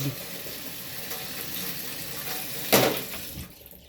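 Water splashes and trickles steadily into a cooking pot while pakbet is being made, with a brief louder gush near the end before it tapers off.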